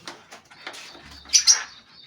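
Soft wing flaps and a couple of brief chirpy bursts from a Magpie Black Danish pigeon nearby, quiet and short, with faint fluttering in between.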